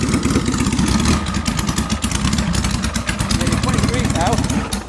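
Small engine running steadily as it warms past 20 degrees during a test session, a loud continuous rough chugging with a fast pulsing rhythm throughout, while people talk over it.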